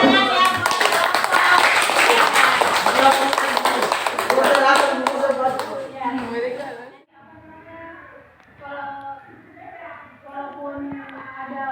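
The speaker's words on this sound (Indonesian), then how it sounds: "Kita berikan tepuk tangan ya." A classroom of students claps loudly and steadily for several seconds, then the applause thins out and a voice speaks over sparse taps.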